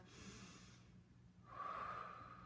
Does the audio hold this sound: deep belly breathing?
yes